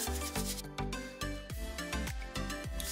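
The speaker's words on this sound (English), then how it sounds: "mix this up by like rubbing it in my hands" Hands rub a powdery bath bomb mixture together in a rhythmic series of close, gritty strokes, about six of them, each a sandy scraping swish that repeats steadily.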